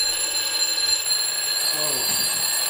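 Many alarm clocks ring at once, about 200 of them, making a dense, continuous, high-pitched electronic ringing that stays steady throughout, with a brief voice faintly underneath.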